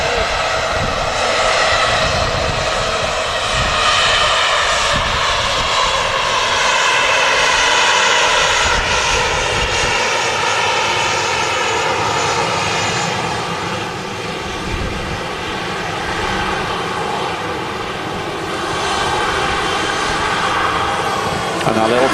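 Airbus A380 jet taxiing onto its stand at Manchester Airport, its engines a loud, steady roar throughout with a broad high whine and rumble, sustained and close.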